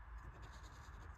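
Steady scratchy scribbling of a pen or marker colouring in a paper savings challenge sheet, continuous and close, with a faint low rumble underneath and no voices.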